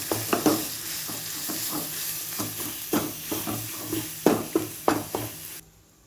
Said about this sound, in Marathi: आता याच्यात लसणाची पूर्ण पेस्ट टाकायची आपण तयार केलेली.